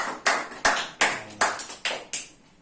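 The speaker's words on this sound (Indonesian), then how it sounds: "Beri tepuk tangan untuk Deodode." Students in a classroom give scattered claps for a classmate, several separate bursts of clapping rising and fading in a loose, uneven rhythm, close and fairly loud with no talking.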